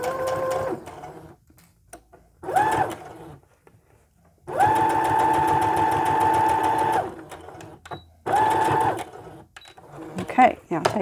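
A sewing machine back stitching the seams of a doll beanbag chair runs in three bursts, a short one, a long steady whir of several seconds, then another, with soft handling noises between.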